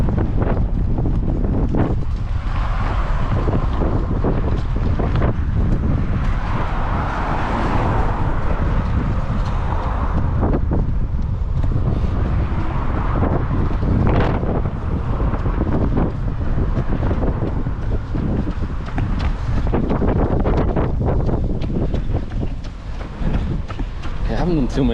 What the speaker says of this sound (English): Seriously windy since I got here.